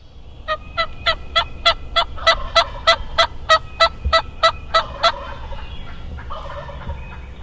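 A wild turkey gobbles from up in a tree, a loud rapid series of about fifteen rattling notes over a few seconds, then quiet outdoor ambience.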